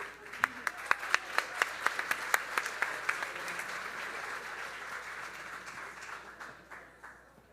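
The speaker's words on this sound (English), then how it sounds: "I think we can do an extra round of applause." An awards ceremony audience applauds at the 2024 Mirror Awards, opening with a few sharp, distinct claps that swell into a softer, continuous round of clapping, fairly quiet and fading toward the end.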